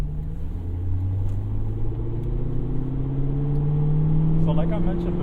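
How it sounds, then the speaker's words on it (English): A C6 Corvette Z06 with a Corsa exhaust rumbles low and steady, its pitch climbing slowly as it revs, with a deep exhaust drone throughout and a voice faintly underneath. "this thing has a Corsa exhaust, which sounds really, really good"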